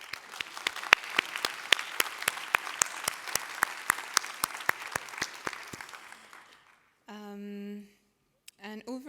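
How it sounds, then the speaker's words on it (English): A conference audience at a SIGCHI town hall gives a steady round of applause. Dense, even clapping fills the room for about six seconds and fades out, and a presenter starts speaking once it stops. "and maybe a round of applause"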